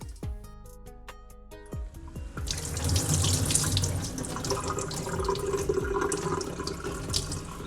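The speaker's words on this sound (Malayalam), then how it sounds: "വെള്ളം മാറ്റി കഴുകണം കേട്ടോ. അതിൻ്റെ ആ ഒരു പശ കംപ്ലീറ്റ് ആയിട്ട് പോകണം." Tap water runs steadily over soaked rice being washed in a sink for coconut appam batter, starting with a few clinks and drips, then a loud, continuous splashing stream that lasts to the end.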